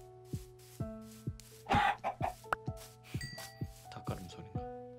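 A blocky Minecraft chicken clucks in a run of short, sharp, close calls, interspersed with clicky game sound effects over quiet ambient tones.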